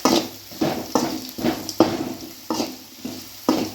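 Rhythmic scraping of a spoon stirring roasted vermicelli upma in a frying pan, about nine strokes in a steady beat, close and alone.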